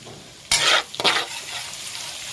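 Garlic dropped into melted butter for garlic butter shrimp bursts into a loud sizzle with two quick surges, then settles into a steady frying hiss, with no voices.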